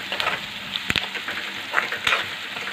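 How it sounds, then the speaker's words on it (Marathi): Chopped onion with salt sautéing in a pan, with a steady soft sizzle and a few sharper crackles and spatters, close and fairly quiet, with no talking. "आता असंच आपल्याला कांदा छान परतून घ्यायचा आहे"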